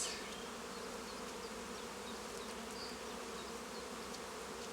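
A crowd of honey bees hums continuously around their hive, an even, unbroken buzzing drone heard up close without any talking.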